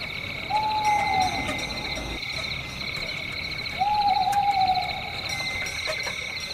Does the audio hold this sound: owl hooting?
yes